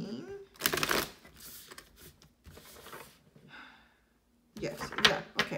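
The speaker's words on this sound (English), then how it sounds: "So now I am shuffling." A tarot card deck being shuffled by hand, several bursts of crisp riffling and card flutter separated by pauses, with some quieter handling in between.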